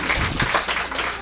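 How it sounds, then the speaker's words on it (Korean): Church congregation at a Christmas service clapping in praise, a short, steady wash of applause that continues evenly through the moment. "다시 한번 하나님께 영광의 박수 올리겠습니다."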